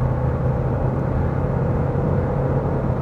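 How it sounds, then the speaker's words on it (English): A 2021 Kia Sedona minivan with 202 horsepower accelerates in sport mode at night, giving a steady, low engine and road rumble from inside the cabin that holds even and unbroken throughout. "So let's just put it into sports and drive."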